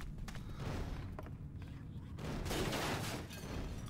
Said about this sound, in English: I got a grenade launcher.